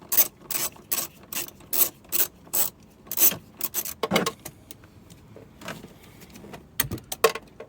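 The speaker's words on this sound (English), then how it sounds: "now we need to remove these nuts. They're actually 13 millimeters" A hand ratchet clicks rapidly in short repeated bursts while loosening 13 mm nuts on the battery hold-down bracket of a 2013-2019 Mercedes-Benz GL-Class X166, close and crisp, with a few scraping handling noises between strokes.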